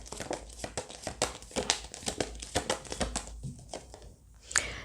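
Tarot cards are shuffled and drawn from a deck close by, giving soft rapid papery flicks, slides and crinkles in an uneven rhythm, quiet and without talk.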